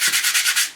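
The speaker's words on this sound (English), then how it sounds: "I'm actually going to use a little bit of emery on the back of those" Emery cloth is rubbed back and forth over corroded copper-plated rear brake pad backs from a Harley Sportster, giving about six quick, close, rhythmic scratchy strokes that fade out at the end.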